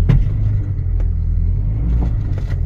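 Buick Rendezvous idling with a low steady rumble after its wheels froze to the ground in winter, with a few faint cracks and thumps as the tires break loose, close and continuous.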